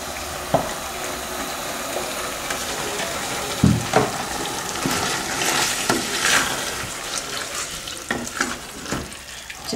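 Spoon stirring chopped tomatoes and tomato juice into a bolognese sauce in a pan, with a wet sizzle, liquid sloshing and scattered scraping knocks over about ten seconds.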